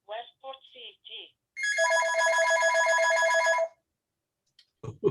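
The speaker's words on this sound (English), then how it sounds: "Somebody's phone is ringing." A telephone rings with a steady electronic trill for about two seconds during a Zoom business meeting, between bits of a man's speech that come before and after it.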